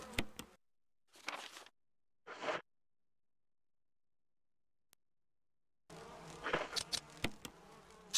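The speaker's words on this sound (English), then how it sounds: "Slightly annoyed bees." Buzzing bees in the video game Resident Evil (2002), heard as short separate bursts of insect drone with silent gaps, followed by a longer, denser buzzing swarm near the end.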